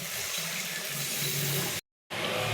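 Water runs steadily into a cooking pot of spiced potato curry for a vegetarian dhokar dalna, a continuous loud gushing pour that cuts out briefly near the end before resuming.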